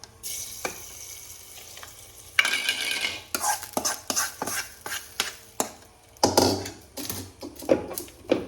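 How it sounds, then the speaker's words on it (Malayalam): Jackfruit curry being stirred in a pan, with a soft sizzle underneath and a series of close scraping strokes and clinks of the spoon against the pan, louder in bursts. "അപ്പോൾ അതൊക്കെ ഇട്ടുകൊണ്ട് നല്ലോണം ഒന്ന് ഇളക്കി കൊടുക്കുന്നുണ്ട്"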